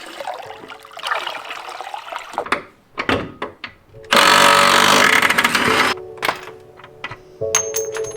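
Vinegar poured to fill a container, a loud continuous splashing pour lasting a couple of seconds amid clinks and knocks of handling.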